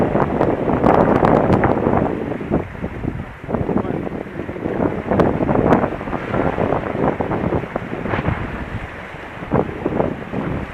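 Strong wind buffets the microphone aboard a reefed sailing dinghy crossing Scottish Highland waters, with steady roaring gusts and water noise throughout and brief voices underneath.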